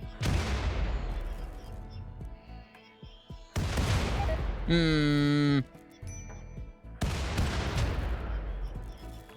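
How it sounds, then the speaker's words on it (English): Mortar fire in the Rimworld game: three heavy booms with long rumbling tails, spread a few seconds apart, and a brief tonal bleat-like sound between the second and third. "And now that everybody has their mortar orders. Set for target, go for the pikeman. And open fire."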